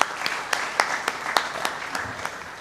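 Applause at a national management conference, a thin, modest spatter of clapping with distinct individual claps standing out in loose rhythm, fairly close and fading slightly toward the end.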